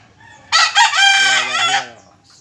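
A game stag rooster at a Filipino farm crows once, close and loud, with a long, ringing cock-a-doodle-doo that trails off, over a quiet background.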